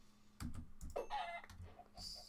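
Minecraft chickens give faint, short clucks over quiet computer keyboard typing and clicking. The clucks come in scattered bursts at low volume.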